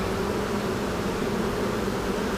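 Honeybees from a relocated swarm buzzing at an opened hive box, a steady, dense drone of many wings close by, with no talking.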